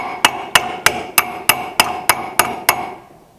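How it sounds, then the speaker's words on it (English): Eight sharp metallic hammer taps at an even rhythm, each ringing briefly as a part is tapped flush on a Ford Flathead fuel pump, then the last ring fades into quiet. "Sometimes it just takes one persuasion with a metal hammer"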